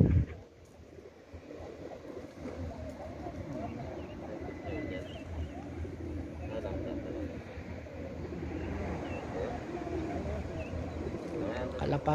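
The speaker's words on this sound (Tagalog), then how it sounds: "Kalapati ng Saudi." Pigeons in Saudi Arabia coo from a scattered flock in the fields, a soft, steady murmur of low calls over continuous outdoor background noise, with no talk.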